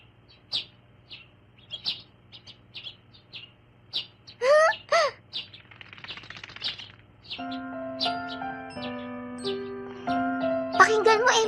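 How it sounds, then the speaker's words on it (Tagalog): Small birds chirp and tweet close by in the morning, with sharp scattered calls, a brief flutter of wings and a denser burst of song near the end over a low steady hum. "Gusto mo sila makita? Magandang umaga, mga ibon!"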